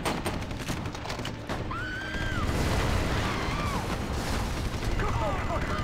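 Gunfire rattles in Grand Theft Auto 5, a few sharp bursts and booms among whistling, chirping game effects, fairly loud and continuous, with no speech.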